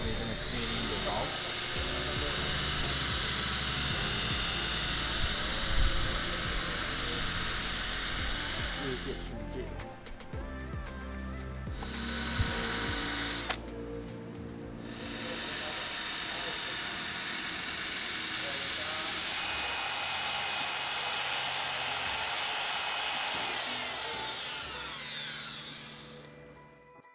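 A power tool whirs steadily while cleaning a dark, dirty exhaust valve, a loud continuous grinding hiss broken by two brief pauses, with a voice talking over it.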